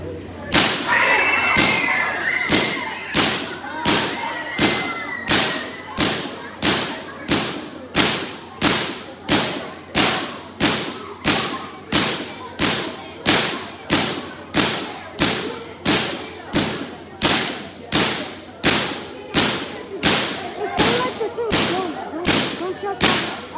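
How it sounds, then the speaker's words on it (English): At a science museum show in Boston, a claw-machine-like thumping repeats in a steady even rhythm, about one loud close thud per second and more than twenty in all, with a few voices near the start. "It sounds like claw machine."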